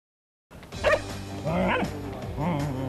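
Border service dogs in training bark in short, loud, close bursts, with whimpering yips between them and no talk over them.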